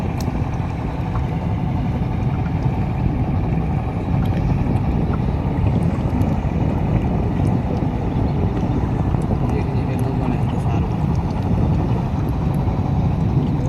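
Boat engine droning on the Meghna river, a loud, steady low rumble with wind buffeting the microphone, continuous and close throughout.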